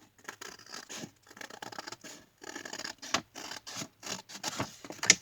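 Scissors snip through paper in a quick series of short crisp cuts, close and fairly quiet, with brief pauses between strokes.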